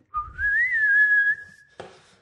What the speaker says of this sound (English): Ooh, whistling is not good stuff.